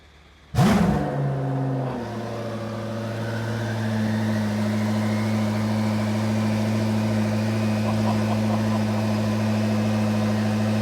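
A Koenigsegg CC850 with a manual gearbox cold-starts with a loud sudden crank and bark, then flares briefly before settling into a steady, high, loud idle that drones on without talk.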